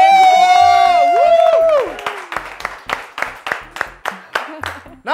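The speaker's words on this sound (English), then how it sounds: "Let's clap for them, guys." A studio audience at a children's maths quiz show claps in even, rhythmic bursts after a sustained musical tone fades, the claps coming loud and close over a few seconds.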